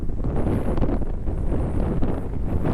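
Strong seaside wind on the Shimane coast of Japan buffets the microphone in a loud, constant roar with gusty swells, no voices heard.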